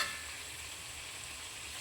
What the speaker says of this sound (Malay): jadi kita goreng ikan goreng, masak sambal